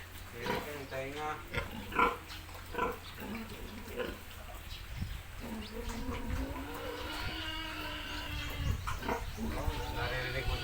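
A boar pig on a farm grunts in deep, rough, repeated bursts, close and fairly loud, with a person talking intermittently over and between the grunts.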